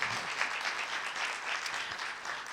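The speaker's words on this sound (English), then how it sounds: "Shall we give our applause, both the speakers?" Audience applause for two speakers after a talk on red meat, a steady patter of many hands clapping at moderate distance, fairly quiet, with no speech.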